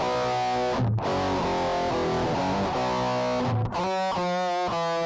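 Electric guitar played through an IK Multimedia X-Drive digital distortion pedal with bass, mid and treble tone controls and the noise gate off, loud sustained distorted chords and notes, with two brief breaks between phrases and then a run of chugging chords.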